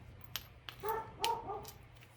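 A few short dog barks and yips at moderate distance, scattered across two seconds over a low background hum.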